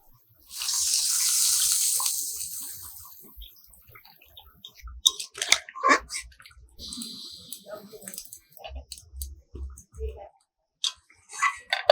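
Water is poured into a snakehead fish curry cooked with green hog plums, a steady rush lasting about two seconds, followed by clatter and people talking.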